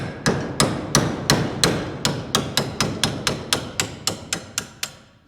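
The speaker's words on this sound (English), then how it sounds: "And then you get the socket stuck and you have to beat it the other way." A hammer beats a stuck socket back out of a suspension bushing on a 1959 Chevrolet Impala: about fifteen sharp metallic blows at a steady, quickening rhythm, loud and close, each with a short ringing decay.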